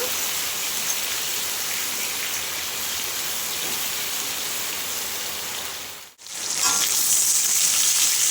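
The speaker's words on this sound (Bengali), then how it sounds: "সবজিগুলো একটু ভাজা করে নেব" Potato, pumpkin and eggplant frying together in a pan, a dense continuous sizzle like rain on a surface, briefly dropping out before returning louder and brighter.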